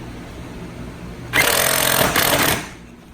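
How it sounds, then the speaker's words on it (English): Powered tool briefly rattling a bolt tight with an 8 mm socket during a turbo downpipe install on a Fiat 500 Abarth, a loud buzzing burst of roughly a second with a short pause, over a quiet garage background. "we're going to put this bolt back in and then tighten it down with an 8 millimeter socket"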